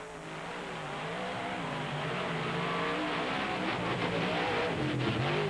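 Monster truck engines roar down a drag-racing track in a steady, loud, building drone with rising revs, heard alone without voices.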